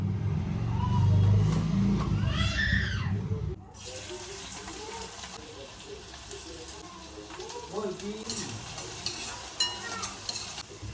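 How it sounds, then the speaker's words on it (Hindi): Besan pitla bubbling and being stirred in a kadhai, with scraping and soft sizzling under a low hum; the first few seconds are louder and muddier before settling into steady quiet stirring. "तो अब इस कढ़ाई में कर देती हूँ पिटला।"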